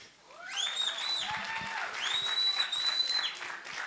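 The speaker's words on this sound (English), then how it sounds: "Give me a round of applause." An audience at a school learner leadership event gives a round of applause, with steady clapping, a few sharp whistles and cheers rising over it, lasting throughout.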